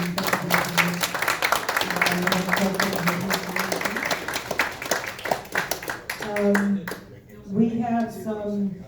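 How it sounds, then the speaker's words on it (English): Audience applause for a talk presenter at a lecture, scattered clapping heard under a man's continuing speech. "So let's just give Ron another big round of applause."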